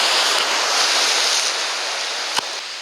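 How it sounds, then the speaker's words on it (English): Lake Erie waves break on the shore in a loud, continuous wash of surf, steady throughout with a brief sharp knock near the end and no voices. "the wonderful noise caused by the Great Lake Erie waves"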